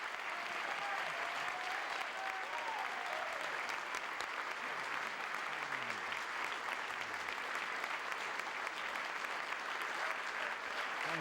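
An audience claps continuously for President Reagan's announcement, a thick, even wash of applause that holds at the same level from start to end, with a faint voice briefly audible under it.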